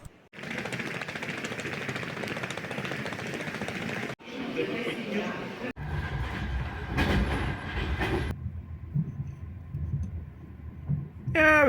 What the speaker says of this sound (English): I had a night train from Kyїv to Odesa.